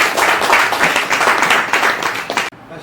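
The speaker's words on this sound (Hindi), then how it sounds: "जोरदार ताली बजाइए।" Applause from an audience at a motivational speech gathering for newly trained workers, a dense, sustained patter of many hands clapping loudly for about two and a half seconds before cutting off abruptly.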